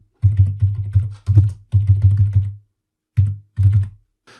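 Computer keyboard typing a command, a quick run of close, crisp keystrokes in several bursts with a short pause before two final taps.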